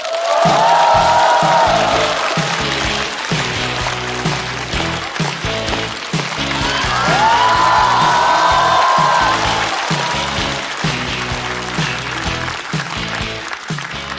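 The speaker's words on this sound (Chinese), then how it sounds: "掌声有请" Stand-up comedy studio audience applauding and cheering as a comedy club host is introduced, a loud sustained wash of clapping with whoops, swelling twice and continuing throughout with a musical sting underneath.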